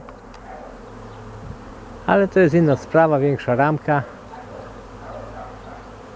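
Honeybees buzz in a soft, steady hum around the hive entrances, close and continuous beneath someone speaking briefly in the middle.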